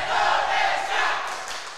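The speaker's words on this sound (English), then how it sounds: "All right, crowd's chanting." Arena crowd chanting loudly and steadily at an Asian Weightlifting Championships men's -73kg session, a dense roar of many voices that eases slightly toward the end.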